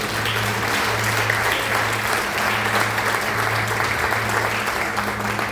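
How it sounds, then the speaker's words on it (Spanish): A church congregation applauding God during a Spanish-language sermon, a thick continuous roar of clapping filling the space at steady loudness, with a low sustained musical tone humming underneath. "Aplauda a nuestro Señor Dios."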